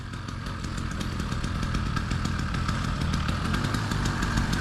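A small motor fitted to a bicycle runs steadily and loudly, giving a buzzing, raspy two-stroke-like drone with a fast rhythmic chatter that holds constant throughout, close by and without speech.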